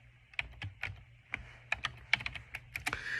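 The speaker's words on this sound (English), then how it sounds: "I'm going to type in equals count if" Quick, close clicks of a computer keyboard as a spreadsheet formula is typed, irregular bursts of keystrokes at low volume with no talking.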